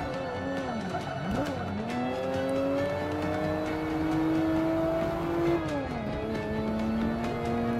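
Race car cornering in Forza 5, engine droning steadily with pitch sweeping down and up through the turns while tires squeal continuously, close and loud with no pauses.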